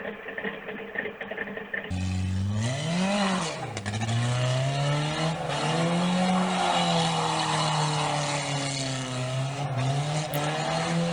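A Toyota AE86 with a freshly installed cam slides and drifts, its engine revving loud and close as the pitch swoops up and down, with tire squeal and scraping layered over the sustained roar.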